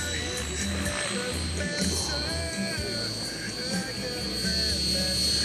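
A Mikado Logo 14 model helicopter whines in a steady, continuous high-pitched drone over a busy background rumble at a trade show tent, without a break.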